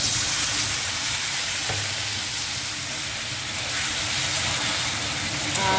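Mustard-poppy paste fries with garlic and potatoes in a pan, giving a steady, loud, close sizzle and hiss that runs without a break.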